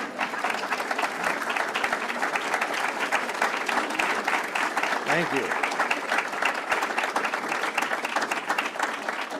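Steady, fairly loud applause from an audience at a literary lecture on Robert Frost, a dense wash of many clapping hands lasting throughout, with a brief spoken thanks partway through.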